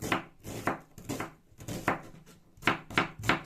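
Onion being finely chopped with a knife on a board for a Christmas Eve filling, about ten crisp rhythmic chops in quick succession, close and fairly quiet, with no one talking.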